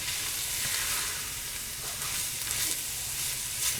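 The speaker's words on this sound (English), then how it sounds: "Tomato paste always tastes better if you give it a minute in a skillet or a pot" Tomato paste sizzles in a skillet for a beef and gnocchi stew: a loud, steady, close crackling hiss that runs unbroken throughout, with no voices.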